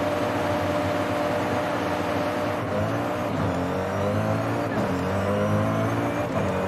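Engines of a Koenigsegg Agera and a Koenigsegg One:1 roaring steadily during a drag race in the Forza video game, a continuous loud droning tone with shifting pitch and no pauses.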